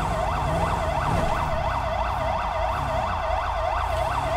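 A loud video-game ambulance siren wails in a fast, regular rising-and-falling cycle over a low engine rumble, with no talking.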